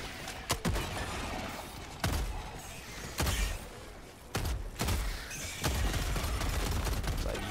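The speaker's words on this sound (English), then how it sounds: "I'm gonna use my grenade pistol on these guys" Grenade pistol firing at bugs in Helldivers 2, several booming shots spaced a second or so apart over a dense, loud game soundscape of continuous noise and rumble.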